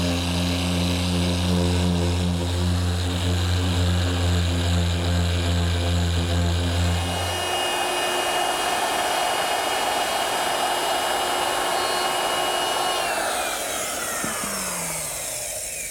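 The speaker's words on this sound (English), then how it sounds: "I'm also going to use the same sander to do the top itself" A random orbit sander smooths a wooden cricket tabletop, a loud continuous whine and hum whose pitch shifts midway, with no talk over it.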